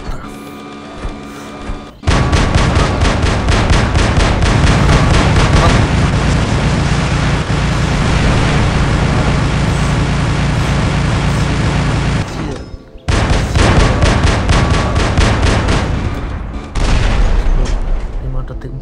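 Rapid, continuous gunfire from robots in the War Robots video game, loud sustained bursts that stop briefly near the end before resuming, with people talking over it.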